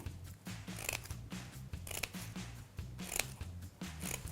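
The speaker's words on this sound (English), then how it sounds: "taking the scissors, just snip along" Several quick scissor snips cut through paper in an uneven rhythm, close up, over a steady low musical background.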